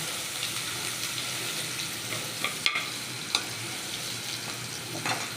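Cumin seeds and garlic fry in oil with a steady hiss, broken by a few sharp pops and utensil clicks, close and without talk.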